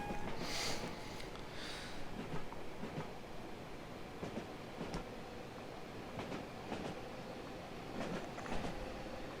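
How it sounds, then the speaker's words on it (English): A BR Class 90 locomotive hauls a Greater Anglia train on the Great Eastern Main Line between Norwich and London. Heard from on board, it gives a steady rumbling run with intermittent rail clicks and faint high squeals. "And there goes the train."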